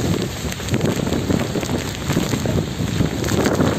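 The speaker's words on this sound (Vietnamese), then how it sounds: "mưa rất là lớn luôn" Heavy rain pours down at sea off Phu Quoc during Storm No. 5, a dense steady hiss of drops mixed with gusting wind buffeting the microphone.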